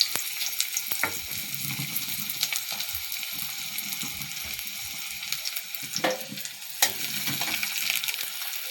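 Chopped onions fry in hot oil in a pan with a loud, continuous close-up sizzle, broken now and then by scraping stirs and a sharper clatter near the end.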